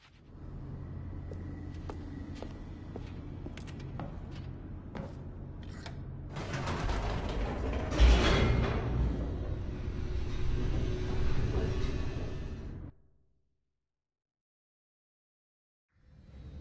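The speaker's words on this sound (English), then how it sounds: "The elevator raced downward" An elevator in The Stanley Parable descending, a low continuous rumble with sharp mechanical clanks early and a swelling rush midway, then cutting to silence.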